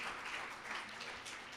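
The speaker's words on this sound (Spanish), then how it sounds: "Un aplauso muy afectuoso para ella" A church congregation gives a welcoming round of applause to a female visitor, soft, distant clapping spread across the room that sounds faint and muffled.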